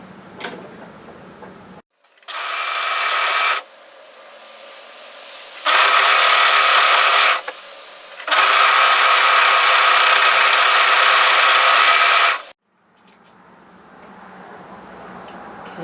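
Serger overlocker stitching spare fabric: three loud, close bursts of fast, even mechanical whirring, the middle burst brief and the last longest, separated by quiet pauses with faint handling noise before and after.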